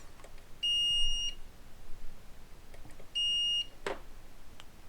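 A circuit tester on a Jawa 90 circuit board gives two steady electronic beeps, each about a second long, as its probes bridge connected contacts, clear against quiet background hiss.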